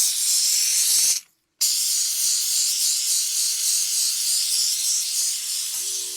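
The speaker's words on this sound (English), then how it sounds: "Now, while Dale's finishing his part of the steaming thing, this is Turbo Steve's fairing." Steam hisses loudly and steadily while cleaning parts from a Yamaha RZ 350 motorcycle, a close continuous spray that cuts out briefly and then resumes.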